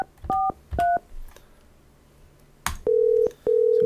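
Touch-tone dialing on a Digium Switchvox desktop softphone: a few short close DTMF beeps, a pause, then two longer steady tones a moment apart as the call is placed.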